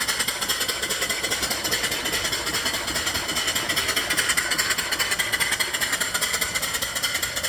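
A live steam mill engine, 34 inches long, runs at a steady clip with rapid, even mechanical chuffing and clattering, loud and close, alone without talk.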